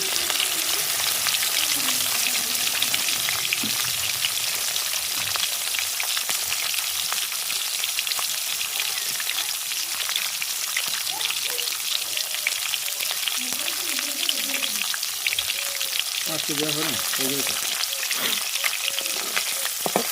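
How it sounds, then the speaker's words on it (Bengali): Rohu fish frying in oil until browned gives a continuous, crackling sizzle for twenty seconds, with occasional stirring sounds and a faint murmur beneath. "মাছটাকে লাল করে ভেজে নেব, তাহলে খেতে ভালো লাগবে।"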